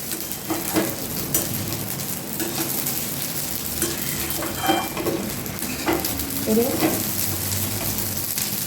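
Soft crackling and popping of rice frying in a pressure cooker for pulao, with occasional stirring scrapes, fairly quiet and continuous.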